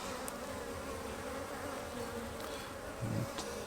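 Calm honeybees hum at an open hive during a weekly inspection, a soft, steady buzz with a few louder passes as single bees fly close.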